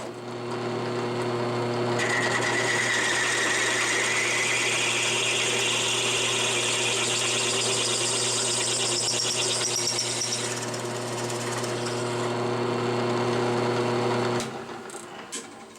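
A drill press cross-drilling holes in a Volvo brake caliper, running as a steady loud whine with a rising high-pitched cutting tone for several seconds before spinning down near the end.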